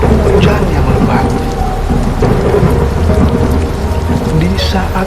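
Heavy rain pours steadily and loudly in a thunderstorm, with deep rumbling thunder rolling underneath the dense hiss of falling water throughout.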